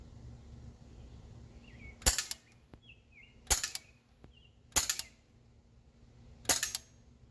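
An AK-74 BB replica airgun fired four times at a can at 10 meters: sharp, loud cracks spaced a second or more apart, with faint high metallic pings between shots and no speech.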